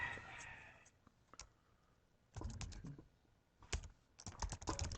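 Fingers type on a computer keyboard while entering a field name in HR management software, with quick bursts of clicky keystrokes separated by short pauses and no talk.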